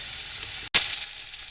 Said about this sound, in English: The same thing going on in the pan. So I'm going to let these brown